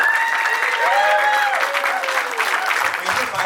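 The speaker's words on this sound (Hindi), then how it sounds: "शुभ शेखर भट्टाचार्य जी के लिए एक बार जोरदार तालियां हो जाए" Audience applause for the producer at a horror film trailer launch, a loud, continuous burst of clapping from a crowd, with a voice speaking over it near the start before the clapping carries on alone.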